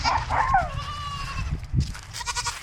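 Goats bleat at a farm at feeding time, several wavering cries in the first second, with a dog barking briefly nearby and rustling between calls.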